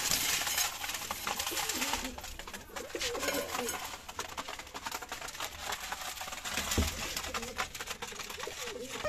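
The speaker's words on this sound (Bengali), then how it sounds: "আমি চলে এলাম পায়রাকে খাবার দিতে" Pigeons coo softly as they are fed, low throaty calls repeating close by amid scattering grain and shuffling, with people talking over them.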